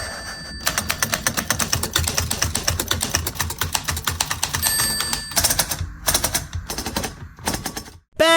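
A typewriter clatters in rapid, dense keystrokes nearby, loud and continuous with brief pauses, a few bell-like dings, and a sharp carriage return near the end.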